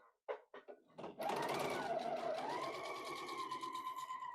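A sewing machine stitches a pinned fabric seam, starting with a few short clicks and then running in a steady, close mechanical whir with a rapid rhythmic patter.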